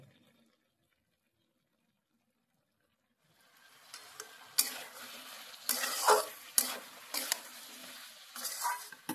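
A spoon stirs salt, sugar and mustard oil into a potato, pumpkin and prawn curry in a pan. Silence comes first, then wet, sizzling scrapes arrive in uneven bursts, close and clear.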